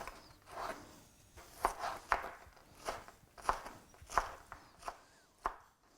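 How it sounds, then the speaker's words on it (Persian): A knife chops tomatoes for homemade salsa against a cutting board, a run of sharp, close, fairly regular chops with short pauses between them. "مرحله بعدی من گوجه فرنگیمو خرد میکنم"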